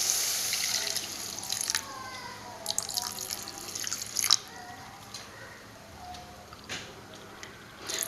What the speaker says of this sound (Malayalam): ആവശ്യത്തിന് വെള്ളം ഒഴിച്ച് കൊടുക്കുകയാണ്.